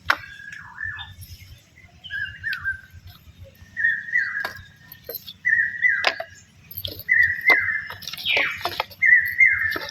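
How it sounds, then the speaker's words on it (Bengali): A bird sings close by in repeated clear whistled phrases, each a short bright note or trill, with a low background hum beneath. "পক্ষীটা তো খুব সুন্দর ডাকতেছে"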